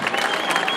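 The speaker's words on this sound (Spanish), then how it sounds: "regálenle el aplauso" Crowd at a jaripeo bull-riding event in Tlaltizapán, Morelos, clapping in a brief dense burst of applause, a steady patter of many hands.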